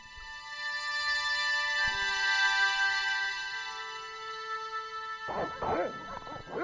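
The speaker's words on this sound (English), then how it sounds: "Got dogs." Dogs bark in the Broken Sword: Shadow of the Templars game, a burst of several close, sharp barks near the end over a steady tonal musical background.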